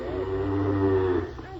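A cow lets out a long, full moo in a children's radio story of the gingerbread man, a single sustained low call lasting over a second, loud and close with no talk over it.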